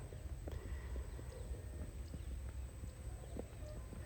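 A horse cantering while being ridden with a western saddle, its hooves thudding in a steady quick rhythm over a low rumbling background, moderately close with no voices.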